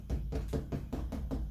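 Knuckles tap about seven times on a tight 20x16 inch painting canvas sprayed with water on the back, giving a steady run of close, dull, drum-like knocks with no talking.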